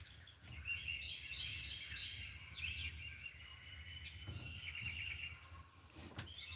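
Wild birds chirp and twitter steadily outdoors on a mild spring morning near a backyard feeder, faint and somewhat distant over a low rumbling background.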